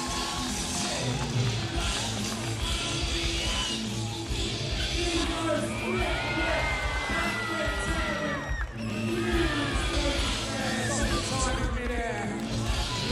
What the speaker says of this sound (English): we give them a huge round of applause for all coming out here and putting on such a great show for us at the FISE